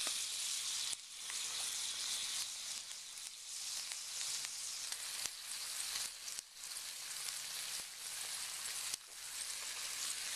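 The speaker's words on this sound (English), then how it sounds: "Put this ham and bread over the main part of the heat." Ham and bread sizzle over a StoveTec wood-burning stove, a steady bright frying hiss that runs unbroken throughout with a few faint knocks, close up and with no talking.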